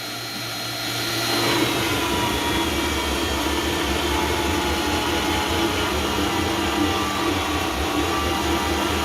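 A magnetic drill turns a step drill bit through stainless steel, giving a loud, close, continuous motor whine with a grinding cutting roar that swells after the first second and then holds steady to the end, with no voices.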